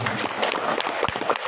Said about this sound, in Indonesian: Tepuk tangan untuk Pak Yoga, Bapak Ibu.